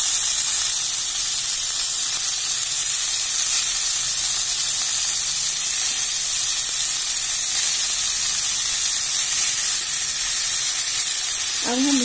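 Potatoes for methi aloo hit hot oil in a pan, giving a steady, loud sizzle that fills the whole stretch without a break, with a brief clatter near the end.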